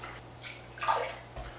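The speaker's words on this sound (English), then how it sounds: "Solid pour." Chocolate milk is poured, giving a brief, soft splashing gush of liquid in two short bursts, close by and fairly quiet over a low electrical hum.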